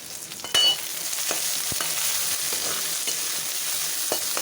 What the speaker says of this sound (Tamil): ஸோ ஆனியன் லைட்டாக ஃப்ரை ஆகுது